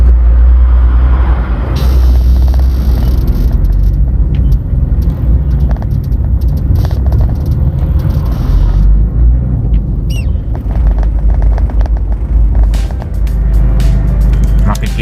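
Dense road traffic near a highway on a congested weekday morning in the Philippines, a steady loud low rumble of cars and trucks with an occasional air-brake hiss, continuous throughout with no clear talk.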